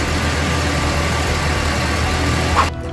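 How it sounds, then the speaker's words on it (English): A truck engine runs steadily and loudly close by, a continuous rumbling drone that holds for nearly three seconds before cutting off abruptly at the end. "I don't know if you can hear me or not over the sound of the truck running"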